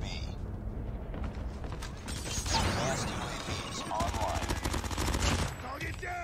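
Rapid automatic fire from an MX9 submachine gun in Call of Duty Mobile, with dense bursts of shots over game ambience and clanking mechanisms, loudest in the middle and near the end.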